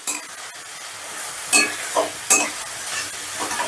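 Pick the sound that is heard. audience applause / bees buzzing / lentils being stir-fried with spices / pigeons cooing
lentils being stir-fried with spices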